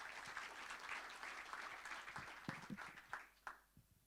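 Audience applause at a creative studio launch event, a short burst of scattered clapping from a modest crowd that thins out and fades toward the end, quiet and somewhat distant.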